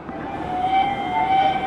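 A LEGO toy train horn gives a steady electronic tone that swells twice over a faint background rumble, moderately loud and close, with no talking.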